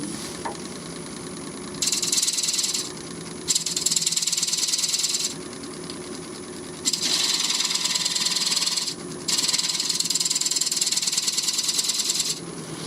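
A negative rake scraper works an elm and walnut bowl on a lathe, making a steady motor drone with a rhythmic rattle, broken by repeated harsher cutting bursts that come and go.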